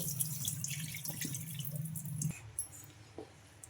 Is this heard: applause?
no